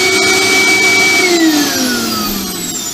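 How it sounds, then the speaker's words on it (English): A workshop vacuum dust extractor runs loudly through a very long flexible hose, a steady whining drone whose pitch slides downward as it spins down over the last couple of seconds. "whenever I want to use the vacuum I just press that"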